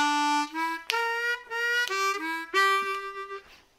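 A C blues harmonica plays a lower triplet lick, a run of clear sustained reedy notes stepping between pitches in short phrases, played alone and fairly close.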